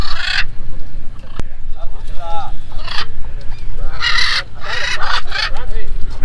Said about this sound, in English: Look like macaws or whatever. Beautiful looking birds.